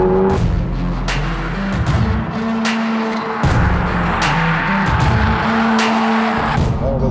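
A Toyota GR86 slides on a track, its tires skidding and squealing in repeated loud bursts over a revving, shifting engine, close and dominant throughout.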